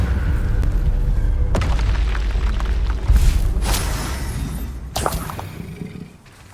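Loud magical spell blasts from the Confringo and Bombarda curses in the Hogwarts Legacy video game, booming explosions with shattering debris and whooshes over a constant rumble of combat, with big hits near 1.5, 3 and 5 seconds.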